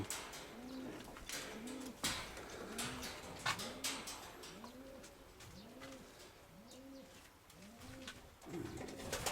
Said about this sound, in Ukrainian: Цей голубок був такий пригнічений.